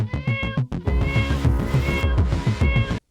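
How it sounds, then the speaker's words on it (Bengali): A cartoon kitten meows repeatedly in quick, high, plaintive cries, loud and close, with a short gap before a longer run of mews that cuts off abruptly. "কাদামাটি মাখা কঙ্কালসার শরীর নিয়ে মিউ মিউ করে ডাকছে"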